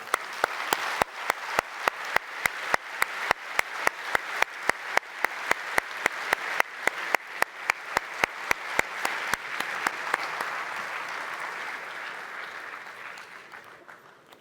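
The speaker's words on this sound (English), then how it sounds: "let me join to applaud our speakers here and online" Applause from an audience closing a panel at an aerospace power conference, heard as rhythmic, evenly spaced loud claps over a wash of scattered clapping that gradually fades out toward the end.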